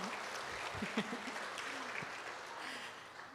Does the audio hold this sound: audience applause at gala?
yes